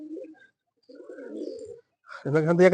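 Newly bought pigeons give short, low coos in separate bursts with silent gaps, before a nearby voice speaks loudly at the end.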